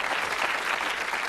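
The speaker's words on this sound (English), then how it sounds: "give him a round of applause, our contestant tonight." A brief burst of dense studio audience applause for a contestant on a British TV darts game show, loud and even, with no talk over it.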